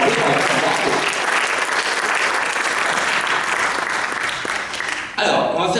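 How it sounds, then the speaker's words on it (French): Loud, dense audience applause fills a theatre during a live stage comedy show, sustained clapping from a full room that briefly dips near the end before a voice cuts in over it. "on peut applaudir la dame quand même"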